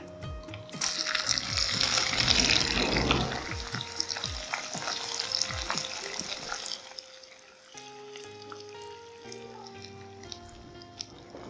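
Three sliced onions hit hot oil in a pan for a Hyderabadi-style white mutton curry, a loud sizzling burst that settles into a steady crackle as they are stirred, close and continuous.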